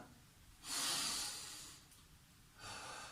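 Deep breathing in a family home workout for children: two big, close, hissing breaths, a long one followed by a pause and then a shorter one, with no speech over them.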